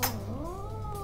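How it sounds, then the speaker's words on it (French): A cat meows in one drawn-out, rising and falling cry, close and fairly loud, with a plaintive, complaining tone. "Viens ici le chat, mangez."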